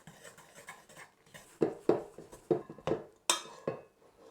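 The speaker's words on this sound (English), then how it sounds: "Just pop your dry ingredients in and get your hook and just mix it round" A dough hook rattles and scrapes around a bowl of dry ingredients for doughnuts, a series of sharp clattering knocks in an uneven rhythm, close and fairly quiet.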